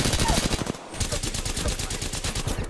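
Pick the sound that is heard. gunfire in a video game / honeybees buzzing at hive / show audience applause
gunfire in a video game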